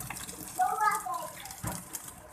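Water from a pot of boiled rice pours through a kitchen strainer, a brief soft splashing gush, with a voice speaking over it.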